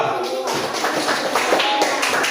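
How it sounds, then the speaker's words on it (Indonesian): Children in a third-grade classroom clap for a student group, a rapid patter of many hands close by for a couple of seconds. "Oke, tepuk tangan untuk kelompok 2."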